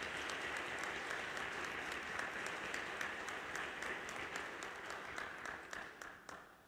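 Steady applause from an audience at a diocesan catechesis gathering in Araçatuba, dense and sustained, fairly distant and soft, tapering off toward the end.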